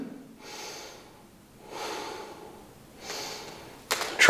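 Slow breathing during a yoga stretch for spinal mobility comes as three soft, close, audible breaths spaced a second or so apart, followed by a sharper sound at the end, with no talk.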